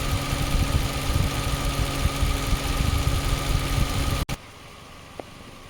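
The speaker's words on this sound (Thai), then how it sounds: "พัดลมไฟฟ้าทำงานปกตินะครับ" A Toyota Vios's electric cooling fan and idling engine drone with a steady mechanical whir and hum, then cut off abruptly near the end, leaving a quiet background with a faint click.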